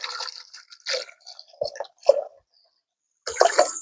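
Water poured into a pot for Jamaican coconut porridge while cooking outdoors, heard as several close splashing, gurgling bursts, a brief quiet pause, then a louder final pour.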